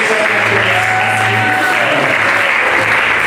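An audience applauds in a hall at a testimony gathering, a dense, steady burst of clapping that carries loud and unbroken throughout.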